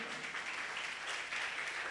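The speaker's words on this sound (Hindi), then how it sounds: "जोरदार तालियां" Loud, sustained applause from a church congregation during a sermon on the power of the Word of God, a dense wash of clapping hands filling the room with no break.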